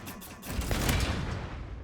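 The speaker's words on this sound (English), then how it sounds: "That's why we have a mortar." A mortar fires in the video game Resident Evil Requiem, a loud, rumbling burst of blast noise that swells over a couple of seconds and stays heavy through the low end.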